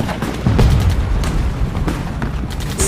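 Bomb blasts from a Japanese air raid on a wartime Chinese city, a loud heavy boom followed by continuous rumbling and crackling debris, dense and roaring throughout.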